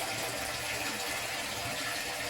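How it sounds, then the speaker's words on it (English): Water pouring steadily into a sump tank from aquaponic grow beds inside a polytunnel on a rural Kenyan fish farm, a continuous broadband splashing rush that stays even and fairly close throughout. "Here is one of them filling up with water from the grow beds."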